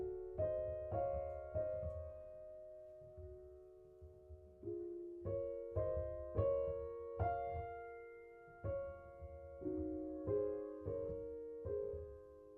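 Solo piano playing Debussy's Clair de Lune, soft sustained chords and single notes struck one after another with gentle decays, slow and spacious, quiet with no voices.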